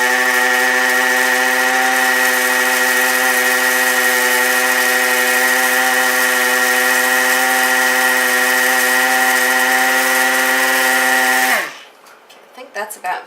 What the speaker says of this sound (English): So I'm going to grind it just a little bit more.